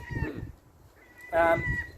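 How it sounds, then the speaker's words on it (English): A seagull calls nearby outdoors, two short squawking bursts separated by a brief pause, fairly loud and unaccompanied by speech. "I've got a seagull looking over us at the moment"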